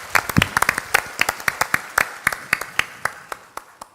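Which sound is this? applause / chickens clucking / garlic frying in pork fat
applause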